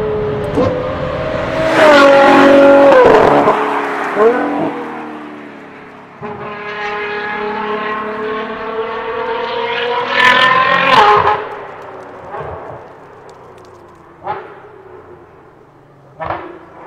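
A loud, deep Ferrari Purosangue V12 with a Novitec exhaust roars and revs steadily, rising and falling in pitch with sharp crackles between throttle bursts, close by.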